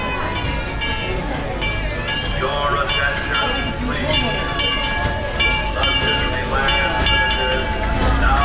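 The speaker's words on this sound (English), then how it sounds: "And we have boarded the train." A Disneyland Railroad train at Christmastime, heard from aboard: a continuous rumbling ride with clanking and squealing wheel tones and whistle-like pitched notes, under a busy mix of crowd voices and background music.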